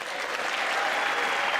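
A burst of dense, loud audience applause during a State of the Union address, a brief continuous wash of many hands clapping at steady volume.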